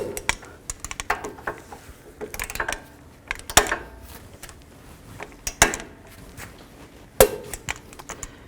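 Caliper bolts on a 2010-16 Buick LaCrosse are tightened with a hand wrench, producing scattered close ratchet clicks and several sharp metallic clacks with pauses between.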